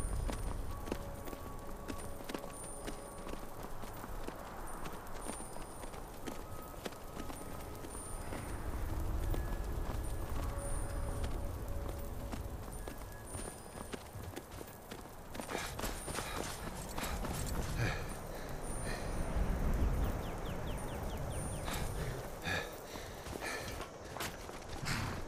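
Horse hooves clip-clopping in the video game Skyrim, a steady walking rhythm of hoofbeats with occasional snorts, heard alongside game ambience and faint background sounds at moderate loudness.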